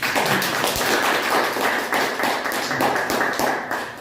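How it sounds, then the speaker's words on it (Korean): Lively clapping from a group at a labor reform forum, a quick run of overlapping claps at a loud, fairly steady level. "박수 크게 한번 보여주세요"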